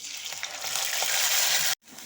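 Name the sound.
frying and stirring ginger, tomato and green chili paste in oil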